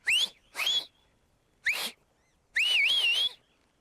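Shepherd's sharp mouth whistles commanding a sheepdog across a field: two short rising blasts, a third brief one, then a longer warbling whistle, loud and clear over quiet surroundings.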